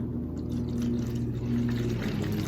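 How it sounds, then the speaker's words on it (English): Water is poured into the bottom of a seed starting tray beneath lifted cells, a soft, continuous trickle over a low steady hum, with no voices. "I'm just gonna lift up this edge of these cells here and pour some water in"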